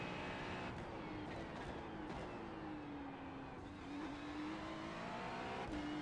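A Ferrari 296 GT3 race car on the Indianapolis road course in iRacing, its engine droning steadily at high revs with a rising and falling whine through gear changes, close and continuous.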